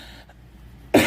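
One short, sharp dry cough from a person with a month-long cough, close and loud, ending a quiet stretch of faint room noise.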